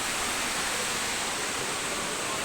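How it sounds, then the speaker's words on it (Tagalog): Daranak Falls in Tanay, Rizal roars as a steady, dense wash of falling water, loud and continuous throughout with no voices. "At least nakarating ako ng Darana Falls."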